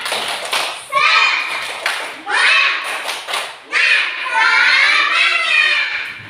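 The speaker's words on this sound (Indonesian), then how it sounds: "Tepuk semangat." Children in an Indonesian classroom doing the tepuk semangat spirit clap: loud, close group chanting in a rhythmic pattern, punctuated by claps and thumps, with the voices filling nearly the whole stretch.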